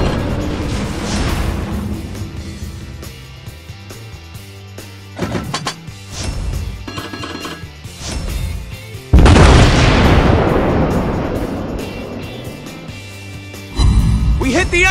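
Naval guns from the Japanese battleship Amagi in World of Warships fire deep, rumbling booms, with shell hits landing as heavy explosions. A strong blast bursts out partway through, and the sounds are layered with game noises and faint voice callouts.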